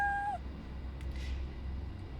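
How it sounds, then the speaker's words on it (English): A single short cartoon cat meow sound effect played in the Scratch program, clear and sliding slightly downward at the very start, then near silence with faint background hiss. "play the sound meow"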